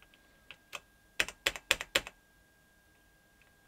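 Keys on a salvaged mechanical keyboard are typed in a quick, uneven burst of about a dozen sharp clicks, close up and alone in a quiet room, with a few lighter taps trailing off at the end.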